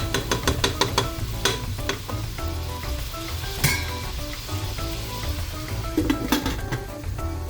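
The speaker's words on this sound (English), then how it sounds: "Give this a quick stir." Loud, steady sizzling of chicken biryani ingredients frying in a pan, with scraping clinks of a utensil stirring it, sharpest near the start and again toward the end.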